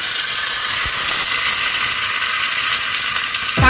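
Chopped curry leaves sizzle in hot oil or ghee for horse gram rasam, a loud steady frying hiss throughout that flares up again with a fresh burst near the end.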